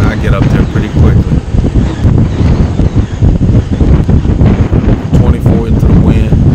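Strong wind buffets the microphone while cycling into a headwind on a road ride, a loud, gusting roar that never lets up, with a voice speaking under it.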